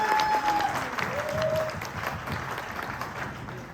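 An audience in Agra claps at a talk, a broad ripple of hands that starts strongest and slowly thins, with faint tones and murmurs mixed in underneath.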